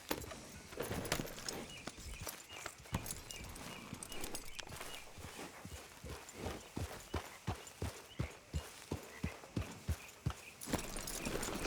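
Horse hooves clip-clop in a steady walking rhythm in Red Dead Redemption 2, crisp repeated clops with a faint background hum, no voices.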